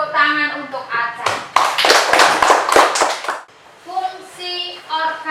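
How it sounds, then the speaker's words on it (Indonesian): Classmates clap together in a classroom for a student, a short burst of many small hands between stretches of a teacher and children speaking. "Tepuk tangan untuk Aca."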